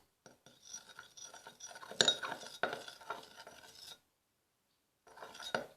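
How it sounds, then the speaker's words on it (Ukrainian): Scissors stir water in a container for homemade soap bubbles, giving a faint, close scraping and clinking swirl for about four seconds, then a pause and a short second burst. "Ну, я не мала палички, то я візьму ножниці. Так будемо перемішувати."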